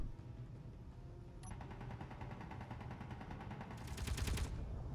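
A turret fires in Space Engineers as a quick, regular stream of rapid shots. The fire is faint at first, grows steadier, and turns louder and harsher near the end.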